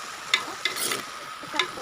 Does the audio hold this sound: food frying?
yes